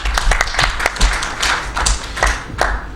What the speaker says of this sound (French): Il faut, je pense, les applaudir